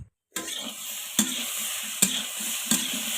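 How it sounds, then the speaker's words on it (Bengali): Diced potatoes and boiled jackfruit with spices fry in a hot pan, a continuous close sizzle broken by a few sharp spoon scrapes and stirs at roughly even intervals. "সবগুলা 5 মিনিট ভালো করে ভেজে নেব।"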